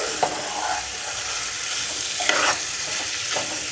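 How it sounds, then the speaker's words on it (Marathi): Masala fries and sizzles in hot oil in a home kitchen while a spoon stirs it, with a few sharp scraping clinks against the pan over a steady close sizzle. "हे चांगलं व्यवस्थित तेल सुटेपर्यंत परतून घ्यायचं आहे."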